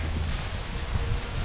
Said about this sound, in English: Getting super windy.